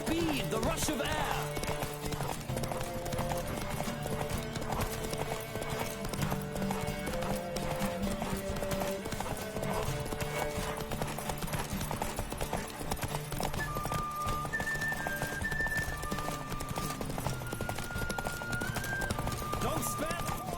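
Steady rhythmic clip-clop of a video game horse's galloping hooves with a whinny, under continuous music, ambient noise and occasional talking.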